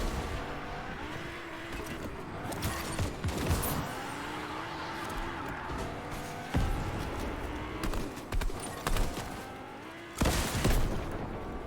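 Fortnite match with game gunfire and explosions over constant engine and vehicle noise, several sharp loud bursts scattered through the stretch and a heavy blast near the end.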